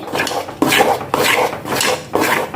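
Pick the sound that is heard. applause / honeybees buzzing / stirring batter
stirring batter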